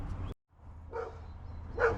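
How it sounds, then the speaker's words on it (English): A dog barks in the background of a garage with a 1950 Dodge Meadowbrook, giving two short, muffled woofs at a distance after a brief burst of noise cuts to silence. "you get to enjoy the barking dog in the background"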